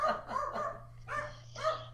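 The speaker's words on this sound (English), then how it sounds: "I love that the dogs are excited about something." Excited dogs bark in three or four short, lively bursts close by, over a constant low hum.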